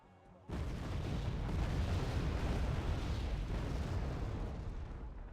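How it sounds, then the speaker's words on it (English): Artillery barrage in the wartime strategy game Wargame: AirLand Battle, a sudden loud rumbling blast that swells into a sustained roar of explosions and slowly fades, no talk. "Got artillery coming in."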